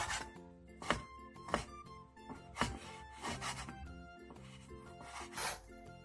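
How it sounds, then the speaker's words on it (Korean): A knife slicing 300 g of beef brisket across the grain on a cutting board, with a series of separate scraping, rubbing cuts at an uneven rhythm, close up and with no talking. "소고기 양지 300g을 결 반대 방향으로 먹기 좋게 잘라주세요."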